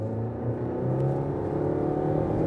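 Selva XSR outboard motor on a Selva 600 Endeavour sport boat, revving hard with a loud, continuous roar that holds steady and rises slightly near the end.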